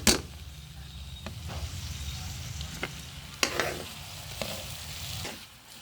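Ham sizzles in a pan for creamy carbonara, a steady low frying hiss broken by several sharp scrapes and stirs of a utensil against the pan.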